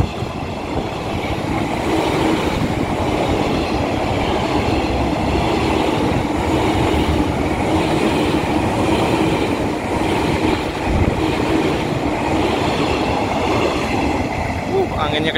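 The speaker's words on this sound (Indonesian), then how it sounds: "Ada JR205 New Livery." A JR205 commuter train in new livery rolls past on the line toward Manggarai, a loud, continuous rumble of wheels and rail noise with faint clatter, close by and steady throughout, with wind buffeting.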